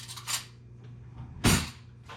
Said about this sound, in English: I'm going to reach over here and get a spoon real quick